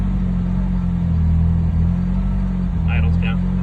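A car engine idles steadily up close with a continuous low rumble, settling down evenly after being revved while the alternator charges; a brief higher chirp cuts in near the end.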